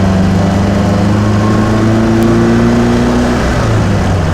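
A 1953 MG TD engine drones loud and close while driving, dipping briefly and then rising steadily in pitch as the car double-clutches and downshifts into second under a constant road roar.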